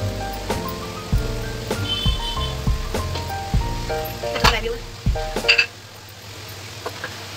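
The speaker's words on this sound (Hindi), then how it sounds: "अपने गुलाब जामुन फ्राई करते हैं। इस तरह से एक एक करके गुलाब जामुन डालते जाएंगे।" Homemade gulab jamun made with wheat flour fry in oil on a low flame, giving a soft sizzle. Sharp metallic clinks and taps ring out at irregular intervals over it, close by, with no talking.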